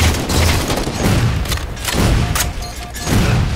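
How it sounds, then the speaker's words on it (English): Repeated explosions and gunfire in a Halo 4 multiplayer match, loud, dense booms and bursts arriving in quick succession throughout, with no speech over them. "Where the grenades coming from?"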